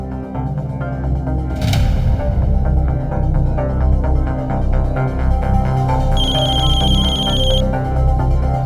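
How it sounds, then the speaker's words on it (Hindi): A telephone rings repeatedly and goes unanswered, a loud electronic ringtone pulsing over a low steady hum, with a bright chime tone near the end. "दीदी फोन नहीं उठा रही।"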